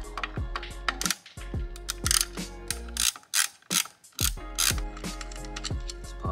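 A ratchet wrench loosening two 10 millimeter bolts on a GFB blow off valve, heard close as rapid clicking bursts separated by short pauses, with no talk.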